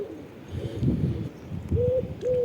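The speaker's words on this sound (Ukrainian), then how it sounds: "Це мій це мій голуб. Він нас має гніздо тут коло хати весь час." A pigeon nesting by a house coos softly nearby, a few low rolling coos repeating over a quiet outdoor background.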